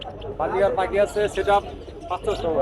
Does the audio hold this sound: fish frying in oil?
no